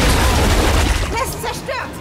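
Grenade blast destroying a nest in the video game Gears 5, a loud deep booming rumble that decays while a voice speaks over the tail end.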